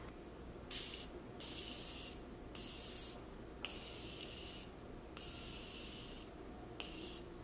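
Repeated bursts of makeup setting spray mist, several short hissing pumps in an uneven rhythm, close and fairly loud over a low background hum.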